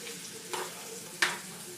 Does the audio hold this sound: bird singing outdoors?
no